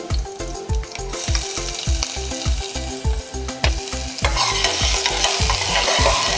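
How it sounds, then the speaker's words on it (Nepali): Onions fry in hot oil with chopped ginger and garlic, sizzling loudly and steadily up close while a utensil scrapes and stirs in a regular rhythm of repeated strokes. "तेललाई एकछिन तात्न दिने, त्यसपछि अदुवा लसुन चप, यसलाई हल्का खैरो भइसकेपछि यसलाई चाहिँ प्याज राख्ने"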